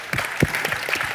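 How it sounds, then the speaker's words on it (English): A short, steady wash of crowd applause at a young leaders finale closing event, sustained clapping heard alone. "I would like to give another round of applause to you who are here with us."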